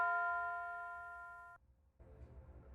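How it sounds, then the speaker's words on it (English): A tubular bell one-shot in a hip-hop beat strikes once, a bright ringing tone that slowly decays for about a second and a half before cutting off, followed by quieter beat elements. "For like the second part of the hook, I have a tubular bell, one shot."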